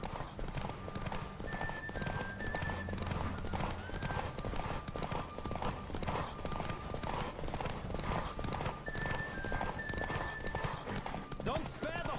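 Horse hooves clip-clop at a steady galloping rhythm in The Witcher 3, with occasional whinnies, game music and shouted voices layered over the running beat throughout.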